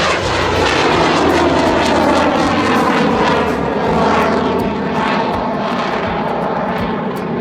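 A loud J85 jet engine roars steadily and close, its pitch wavering slightly as the plane holds power, with no voices.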